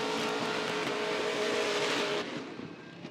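A drift car spinning out during Formula Drift knockout qualifying in St. Louis, a loud engine roar with tire noise that holds, then drops off sharply and fades.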